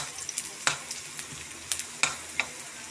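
Onion and ginger sauté in a pan with a soft sizzle, broken by several quick scraping stirs from a utensil, close up and without talk.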